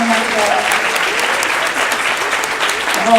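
Breakfast event audience applauds panelists, a full, even burst of clapping from a room of people, close and sustained throughout, with a voice briefly heard over it.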